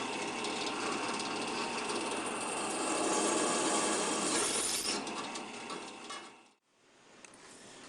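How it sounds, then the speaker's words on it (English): Drill press grinds steadily through the steel of a 14th-century-style barrel helm, a loud close whirring and scraping that fades out near the end before starting up again. "Setting it upside down on here, and I'll just drill through the holes at the pre-marked spots"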